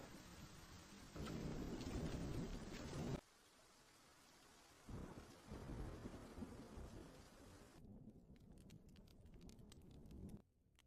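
A thunderstorm with heavy rain in a rocky mountain wilderness, steady broadband downpour swelling and easing with loud thunder rumbles and cracks, nearby and continuous with no voices.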